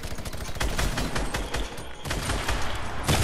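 Rapid video game gunfire rattles in dense bursts, loud and close, with brief lulls between volleys and no voices over it.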